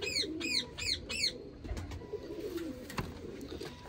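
Pigeons in a loft, including a purple-necked female, give several rhythmic, fairly close coos at the start, followed by softer rustling and faint background noise.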